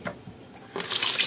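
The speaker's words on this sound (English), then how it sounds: "Constant running water." A kitchen tap runs into a sink while raw chicken is being washed: a brief splash at first, then a bright, steady rush of water that starts suddenly and continues close and loud.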